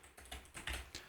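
Fingers typing on a computer keyboard, a brief close burst of about five quick key clicks in uneven rhythm, quiet and with no voice.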